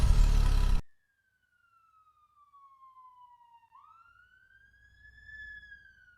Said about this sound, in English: Definitely able to hear the Doppler effect.